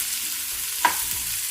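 Vegetables and peas sizzle in a hot pan for veg dum biryani, with a low continuous frying hiss broken by one sharp spoon scrape as the mix is stirred.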